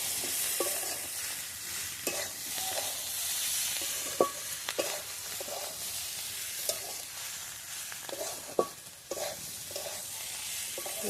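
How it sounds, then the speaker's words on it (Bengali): Spring onions frying in a pan for egg bhurji, stirred at a steady pace: a constant close sizzle and hiss with regular scraping strokes and a few sharper clinks of the spatula. "আমি খুলে আবারও একটু নেড়ে দিচ্ছি"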